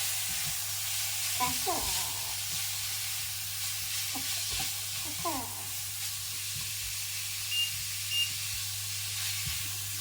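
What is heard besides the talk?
beef frying in a pan for cottage pie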